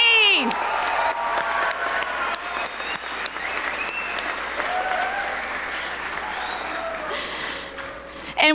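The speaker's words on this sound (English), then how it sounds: "can we have another applause for our class of 2019?" Auditorium audience applauding a graduating class of 2019 at a graduation ceremony, sustained clapping with some cheers and whoops, steady throughout, with a brief voice near the start and end.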